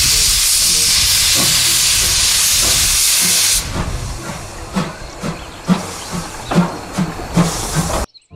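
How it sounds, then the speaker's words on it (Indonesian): A toy Thomas train gives a loud continuous steam hiss for a few seconds, followed by quieter rhythmic chuffing clicks as it moves along. "Yang ini ada kereta Thomas"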